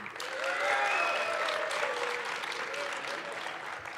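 Crowd applause from the audience at an EVE Online Fanfest 2009 PvP tournament, a continuous moderate clapping wash lasting several seconds, with faint voices under it.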